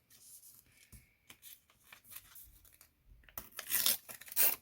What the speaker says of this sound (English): Tape off all the other areas.